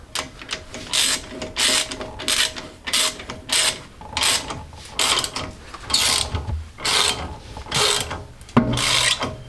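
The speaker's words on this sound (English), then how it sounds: "then you can just put a socket on and a wrench like this" Rhythmic ratcheting of a socket wrench on a Land Rover Discovery 2 wheel bearing nut, repeated close clicking strokes in regular bursts with short pauses between them.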